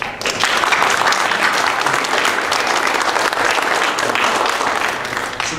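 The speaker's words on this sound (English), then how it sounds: "so give yourselves a round of applause" Loud, sustained applause from a Startup Weekend audience in Monterey Bay, dense clapping filling the whole stretch evenly and tapering slightly at the end, with no talking over it.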